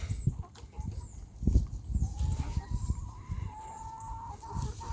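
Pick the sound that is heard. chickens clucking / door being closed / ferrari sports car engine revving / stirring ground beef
chickens clucking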